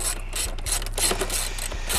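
A hand ratchet fitted with an extension loosens a bolt on a Lexus SC300/SC400 front lip spoiler, giving close, rapid repeated clicking in uneven bursts over a low steady hum.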